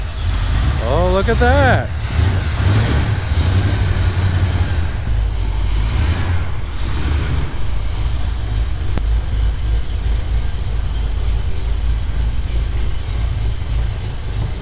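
A Pontiac Trans Am engine catches after cranking and then idles and rumbles steadily with a deep, loud low-end drone throughout. Excited voices talk over it.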